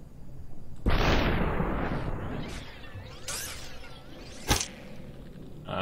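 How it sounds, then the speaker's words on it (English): A gunshot fires in the video game SuperHot, a loud close burst with a long rumbling, whooshing tail, followed later by a shorter, sharper pop. "I wonder if I could shoot him from this distance."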